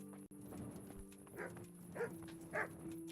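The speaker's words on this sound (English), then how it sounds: "Dog." A dog barking in the medieval video game Kingdom Come: Deliverance, three short, fairly distant barks spaced about half a second apart over steady game ambience and a low musical drone.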